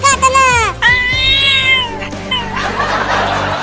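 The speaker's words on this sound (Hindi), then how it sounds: "देखो वो बड़ा बिल्ली हमें काटने को" A big cat meows in several loud, drawn-out, rising and falling calls up close, with bits of other vocal noise mixed in.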